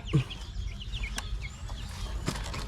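A Silkie hen clucks briefly on a farm, a couple of soft short clucks near the start and end amid quiet outdoor background noise.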